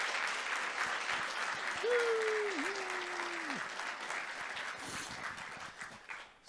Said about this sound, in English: Can we get a round of applause for them for doing such a fantastic job?